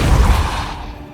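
A Depulso spell cast in Hogwarts Legacy lands as one brief, loud, booming whoosh with a heavy low thump that quickly fades away.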